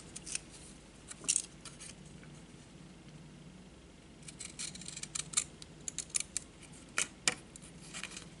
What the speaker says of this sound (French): Et ça, je vais venir découper.